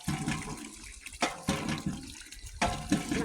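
Water is scooped and poured in a rural home, with splashing gushes in three bursts and trickling between them, close by and with no talking.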